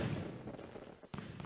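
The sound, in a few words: fireworks in video game Super Mario 3D World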